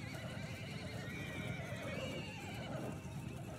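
In the Realm of Thrones strategy game, a horse whinnies over a steady wash of battle noise and hoofbeats, the neigh faint and partly buried in the continuous din.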